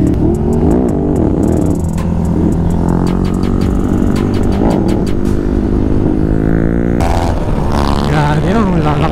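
A Yamaha Aerox scooter rolls downhill with a steady engine drone and whine that shifts in pitch, mixed with wind and road noise, while a rider talks over it.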